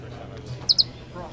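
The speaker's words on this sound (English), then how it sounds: "Cooler than all that is the noise this makes whenever you lock it. It sounds like a bird chirping." A Rivian R1T electric pickup truck sounds a bird-like lock chirp from its wristband key: two quick, bright, high chirps in close succession, standing out clearly over a quiet outdoor background.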